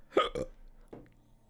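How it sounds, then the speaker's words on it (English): A person hiccups during a late-night chat after drinking wine: two sharp, close, loud hiccups in quick succession, then a third, softer one about half a second later, with no talking. "I got hiccups now"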